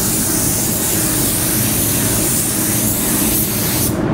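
An Eastwood CC500 spray gun lays a coat of paint onto a new car panel, giving a loud, steady broadband hiss that runs unbroken and close for about four seconds before cutting off abruptly at the end.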